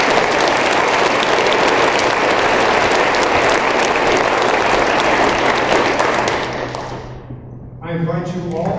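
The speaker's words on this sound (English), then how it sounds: "If you would, please, a round of applause." Loud, dense applause from an audience at a university research awards ceremony, sustained for several seconds before fading, then a speaker begins talking into a microphone.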